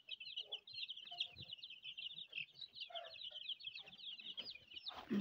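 Twenty-one-day-old egg-laying and native chicks, housed with a pair of turkeys on an upper coop level, give a continuous high cheeping chorus mixed with low clucks, quiet and close.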